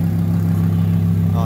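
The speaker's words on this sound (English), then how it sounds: "we just got a startup of the Lamborghini Huracán" A green Lamborghini Huracán LP 610-4 runs right after its startup, a loud, steady low engine drone close by with a slight rise near the end.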